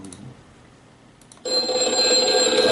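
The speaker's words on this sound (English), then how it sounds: "Oh, the phone is ringing?" A telephone bell begins ringing abruptly after a quiet stretch, a loud, steady, continuous metallic ring close by.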